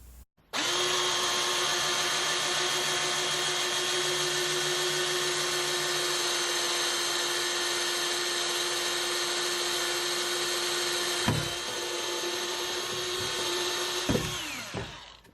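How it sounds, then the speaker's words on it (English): A small power drill whines steadily and close for about fourteen seconds, boring a pilot hole through plywood, then cuts off with a few brief bursts near the end. "So I use my small drill to make a pilot hole down through the plywood from above"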